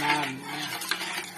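Spoon stirring salt and sugar into lemon water for lemon pickle, a steady close scraping and swirling with a few light clinks against the container.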